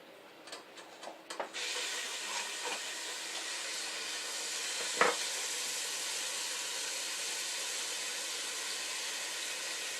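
Finely diced onion sizzles in olive oil in a pot: a few soft clatters at first, then a sudden steady hiss that holds evenly to the end, with one brief knock midway.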